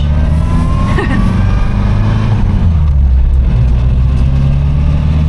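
The engine of a Triumph Herald Estate with a rough idle runs loud and close, a steady low rumble that holds throughout.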